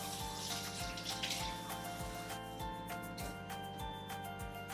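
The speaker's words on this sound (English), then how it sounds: "we're just gonna add a little bit of warm water to make it tepid" Warm water pours steadily from a tap into a bowl, a continuous close splashing gush under a low rhythmic background hum, with no talk.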